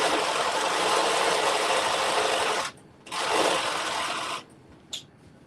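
A sewing machine runs in steady bursts stitching a 5/8-inch seam on a garment sleeve, loud and close, with two brief pauses near the end.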